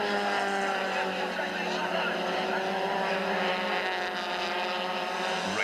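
Onboard a Nissan Sentra touring car racing at Killarney in 1998, the engine drones loud and constant with shifting harmonic whine as it accelerates, while a commentator talks over it.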